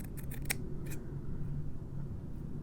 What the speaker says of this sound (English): Let's try it with the bigger scissors.